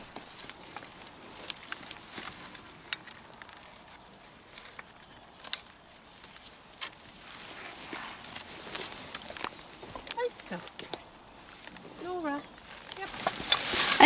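Working horses on a farm in January, with faint hoof clip-clops and shuffling steps at a distance, under quiet outdoor ambience, with a few rising whistle-like tones near the end.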